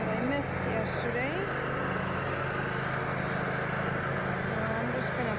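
A lawn mower runs steadily in the background of a garden, a continuous droning engine hum through the whole stretch with no break.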